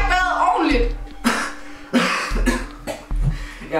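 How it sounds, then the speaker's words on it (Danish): An elderly man, a lifelong smoker, coughs in several harsh, rough bursts spread across the moment, close and loud, with strained breathing between them. "hvorfor hoster du sådan?"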